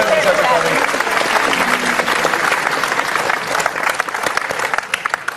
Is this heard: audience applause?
yes